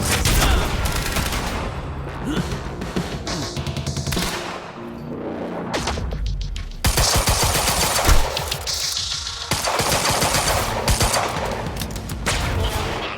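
Dense, sustained automatic gunfire in the game Quantum Break, with rapid overlapping bursts and near loud shots filling the whole stretch, plus a brief break around the middle before the firing resumes.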